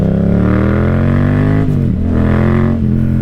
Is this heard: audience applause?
no